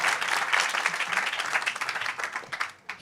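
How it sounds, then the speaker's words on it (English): A crowd at a climate-progress event breaks into sustained applause, dense steady clapping that stays strong for a few seconds before thinning out at the end. "Lots of applause."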